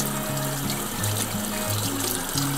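Celery with dirt inside the stalks is rinsed under a running kitchen tap, a steady close water stream splashing and trickling throughout with no talking.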